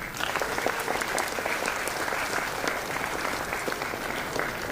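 A convocation audience at Ramaiah Institute of Management breaks into loud, sustained applause, a dense even wash of many hands clapping together without a break.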